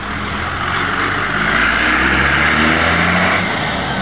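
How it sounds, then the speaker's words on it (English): A loud truck engine rumbles past nearby, its steady roar swelling slightly as it drives along the road, with no voices. "Truck's going down the road."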